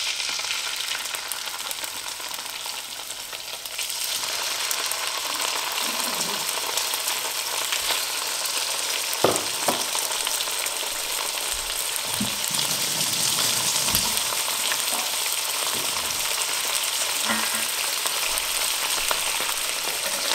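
Fish fillets in black Kampot pepper marinade sear in a pan with a continuous, fairly loud sizzle lasting many seconds, joined midway by a few brief clatters and shifting hiss as the pan is handled.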